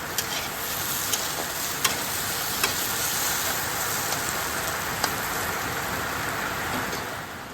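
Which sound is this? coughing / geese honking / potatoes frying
potatoes frying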